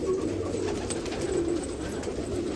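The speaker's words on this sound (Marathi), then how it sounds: "हे सगळे तुमचे जुने कबूतर आहे" Old pigeons at a long-kept loft on Subhash Road in Nashik coo continuously, a low, steady murmur of several birds close by with no voices.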